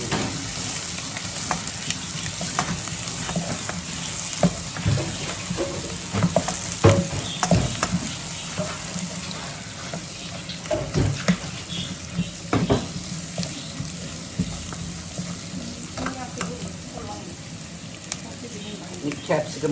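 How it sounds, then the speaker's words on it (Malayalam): Sliced onions sauté in a hot pan for a homemade pizza topping, a steady sizzle with intermittent stirring scrapes and clatters, close and moderately quiet. "നമുക്ക് ഈ സവോള ഒന്ന് വഴഞ്ഞ് വരട്ടെ"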